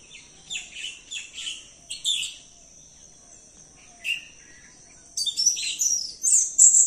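Morning sparrows chirp in coconut palms in a Konkan orchard, scattered short tweets at first, then a denser, louder flurry of overlapping calls toward the end, with no talking.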